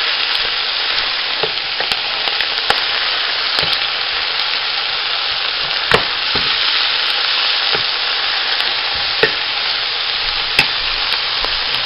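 Ham hock and oxtail sautéing in a pot for puchero, a continuous close sizzle punctuated by occasional sharp spoon clacks as the meat is stirred, no voices.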